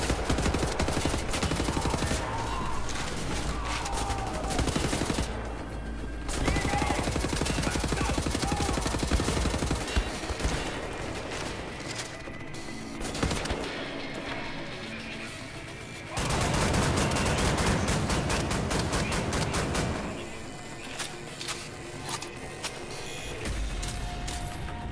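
Assault rifle fire in the shooter game Wolfenstein The New Order, loud, dense automatic bursts several seconds long, broken by short pauses, with game effects in between.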